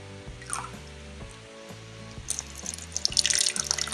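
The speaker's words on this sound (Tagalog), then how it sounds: "Lagyan ng water ang decanter or carafe." Tap water runs into a coffee maker's carafe at a sink, a steady close stream that grows brighter and splashier as the carafe fills, heard alone.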